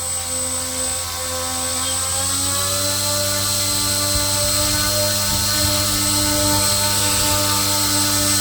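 A 3D printed propeller driven by an electric motor spins at half throttle on a thrust test stand, giving a loud, steady whirring drone with a gently rising pitch, heard close and alone.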